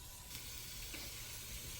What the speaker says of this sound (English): Yo, it's sizzling though.